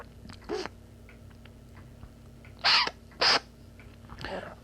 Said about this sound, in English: that sound. It's clearing my teeth.